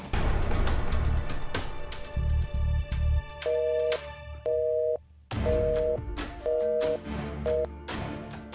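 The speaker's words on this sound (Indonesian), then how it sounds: "itu tadi suara handphonenya Maira kan?" A mobile phone ringing indoors in a drama scene, repeated electronic tone bursts in an even on-off pattern over a low musical background, loud and close.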